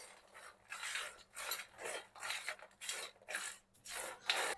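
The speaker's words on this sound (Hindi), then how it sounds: "तो इसमें मैं डाल दूंगी ये सारा का सारा मसाला और जल्दी जल्दी से इसको मिक्स करेंगे।" Masala is mixed by hand into roasted peanuts on a plate, making rhythmic scraping and rustling strokes, about one every half second, close and fairly quiet.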